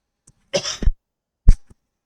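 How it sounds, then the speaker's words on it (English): A person coughing close up, a harsh double cough followed by a single short cough after a pause, alone in quiet. "Excuse me, coughing."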